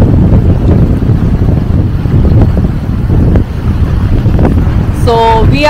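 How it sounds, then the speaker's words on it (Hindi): Strong wind buffets the microphone at Mibaru Beach in Okinawa, a steady loud rumble with surf washing underneath, joined near the end by a brief high tonal sweep. "हवा का रुख भी काफी तेज है"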